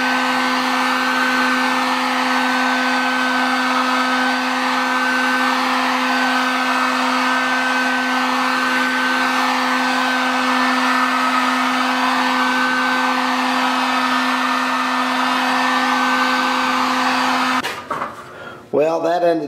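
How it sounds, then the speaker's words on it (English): A heat gun warms a plastic sheet to drape over aluminum while shaping a '37 Studebaker body part, giving a loud, steady whirring drone for about seventeen seconds before it cuts off. "I'm going to try to heat up the plastic and let it drape over this piece of aluminum here"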